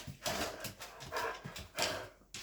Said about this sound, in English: not sure what they were barking at